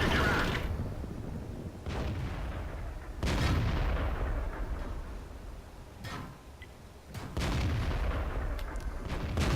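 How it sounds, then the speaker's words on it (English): Heavy tanks in World of Tanks fire on an IS-3, booming cannon shots at irregular intervals, several loud blasts with rumbling decay between them. "Just taking what 4 or 5 heavy tanks, just blasting away at me"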